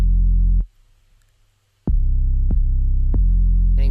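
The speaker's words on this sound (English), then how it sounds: "the 808 by itself sounds like this" Deep, booming 808 bass notes from a trap beat play alone, a long sustained tone, a short gap, then several punchy hits with sliding attacks, loud and close.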